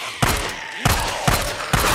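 Pistol shots in the zombie survival game Days Gone, four sharp loud reports spaced about half a second apart, close and alone with no talking.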